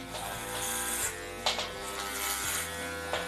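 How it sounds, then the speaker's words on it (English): Electric hair clippers buzz steadily while shaving hair close to the scalp for an undercut, a continuous close motor hum with slight shifts in pitch as the blade moves through the hair. "Just turn our clippers on, hold the head steady so that the head's not pushing away from you"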